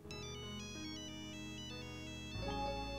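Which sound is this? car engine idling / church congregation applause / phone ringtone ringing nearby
phone ringtone ringing nearby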